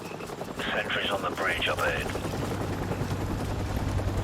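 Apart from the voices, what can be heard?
helicopter passing overhead in Call of Duty Modern Warfare video game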